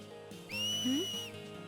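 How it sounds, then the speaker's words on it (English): A single bright whistle from Final Fantasy X, blown to cheer on Blitz players: one sustained tone of about a second, rising briefly at the end, heard close and clear over quiet game ambience. "A whistle? In Xanarkin, we do this to cheer on Blitz players."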